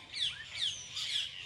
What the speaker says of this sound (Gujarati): તો પક્ષીનો અવાજ કેટલો સરસ આવે છે